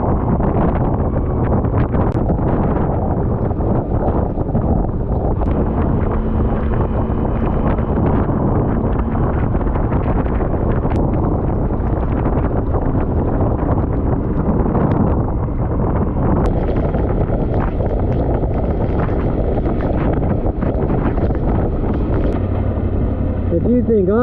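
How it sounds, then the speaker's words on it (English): Howling wind on the Isle of Arran in horrendous weather roars constantly and loudly across the microphone, a dense buffeting rush that never lets up. "howling wind"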